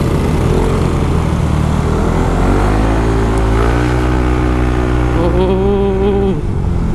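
A Yamaha Mio i125 scooter with a Lightten magneto and K-Workz tuning revs up loud and close, its engine note climbing steadily over several seconds before dropping off near the end, with no talking.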